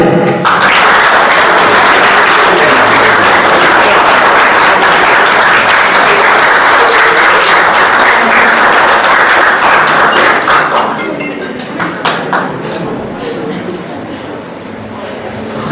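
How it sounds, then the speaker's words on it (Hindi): Students clap through a college annual function at a government college in Chaubattakhal, a dense, loud burst of applause lasting about ten seconds before thinning into scattered claps, with a few faint bird coos and background voices. "बच्चों तालियां।"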